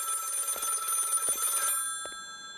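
A telephone rings inside the video game Subversive Memories, a bright electronic bell trilling in repeated bursts, close and clear with no talk over it.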